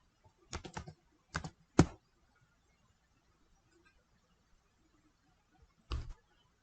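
Several short bursts of computer keyboard typing, clustered quick keystrokes followed by a pause and a final brief burst, close and fairly quiet with no talking.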